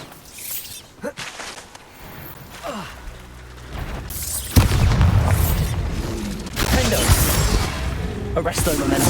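Bombarda spell blasts in the Hogwarts Legacy video game give loud, deep booming bursts layered over game effects and a voice calling out spells.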